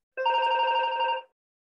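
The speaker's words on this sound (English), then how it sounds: "alarm bells are ringing" A bell rings in one unbroken electronic burst of about a second, even and fairly loud, then stops into silence.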